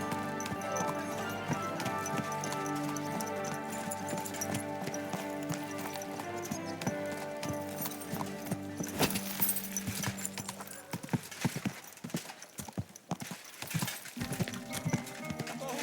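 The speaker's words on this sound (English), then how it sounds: "Don't you know how to keep your horse under control?" Horse hooves clip-clop in a rhythmic gait over music in Kingdom Come: Deliverance 2, with a horse whinnying and some game-style sound effects, clattering impacts near the end.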